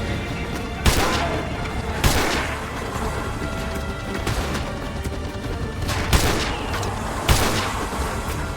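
Sniper rifles fire in Call of Duty Modern Warfare 2 Remastered, about half a dozen loud, sharp shots spaced a second or two apart over a continuous battlefield rumble.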